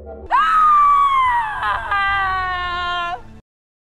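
In a film scene, a winged woman who has lost her wings screams in pain: one long, loud, anguished cry that leaps up, wavers and slowly sinks before cutting off into silence.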